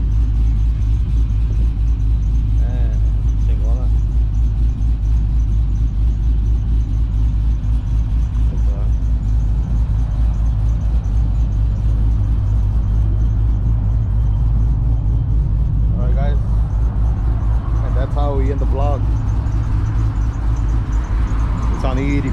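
A supercharged 6.0 race truck idles close by, a steady low engine rumble running throughout with people talking over it.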